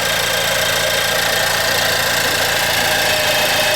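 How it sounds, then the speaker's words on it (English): A 2012 Nissan Juke 1.6 turbo four-cylinder AWD engine idles up close at a steady, even pitch, a continuous smooth, quiet hum with no revving. "It's running. Listen how quiet it is."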